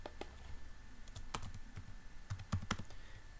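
Typing a folder name on a computer keyboard, a quiet, close run of light irregular key clicks with a few sharper taps toward the end.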